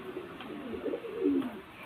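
A soft, steady pigeon coo from a Golden male and a Dabla female pigeon rises and falls in a low, throaty murmur for under two seconds. It is close by and moderately quiet, with no talk.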